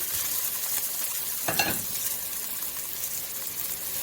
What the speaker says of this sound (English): I added 2 spoonfuls of oil on a medium-high heated pan and added all my aromatics